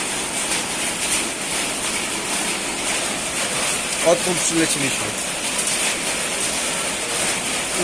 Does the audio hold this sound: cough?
no